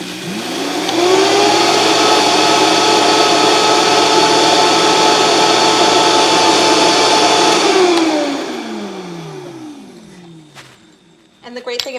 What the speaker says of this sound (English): we really do use that blender a lot